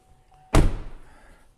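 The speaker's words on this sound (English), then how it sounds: "Close the door so it'll quit beeping." A single solid thunk as the door of a 2015 GMC Sierra Z-71 pickup is shut, close and loud, with a short fading rumble after and near silence before.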